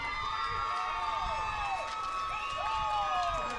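A crowd at a high school softball game cheers and shouts after a double, a sustained noisy roar of many voices with some clapping heard from a distance, while a commentator talks over it.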